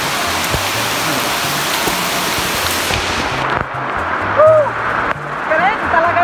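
Heavy rain pours steadily through a rainforest in West Halmahera, a close, dense hiss throughout with people talking over it.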